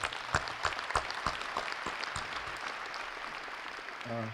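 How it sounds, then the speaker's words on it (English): Applause for the organizers at the Berky Nelson Memorial at UCLA, opening with a few sharp, distinct claps that quickly blend into a modest, fairly quiet round of clapping, with a voice starting at the very end. "So let's give a round of applause to them."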